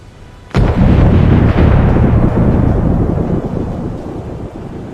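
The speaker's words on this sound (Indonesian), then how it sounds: "Sebuah footage lainnya beredar di sosial media X, menunjukkan ledakan besar terjadi." A large explosion, reportedly in Tel Aviv, hits suddenly with a loud boom and then a long roaring rumble that slowly fades, with wind buffeting the microphone.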